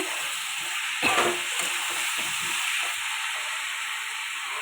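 Pumpkin, potato and prawn ghonto stirred in a pan after being uncovered, a soft continuous sizzle with a brief clatter of the spoon early on.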